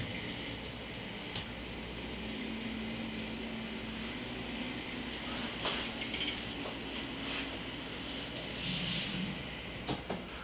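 Low, steady rumble of locomotive 2719 pulling a train forward, with occasional metallic clanks and squeaks from the cars rolling along.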